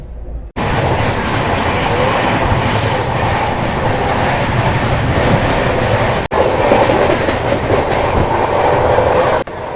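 A Central Railways Rajdhani Express heard from on board as it runs at speed and overtakes another train, with loud continuous rail roar and wheel clatter and two brief dips in the noise.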